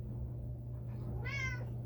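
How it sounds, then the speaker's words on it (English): A cat gives a single short meow after a long quiet stretch, heard indoors over a low steady hum. "Come on, crawler cat, you can do it."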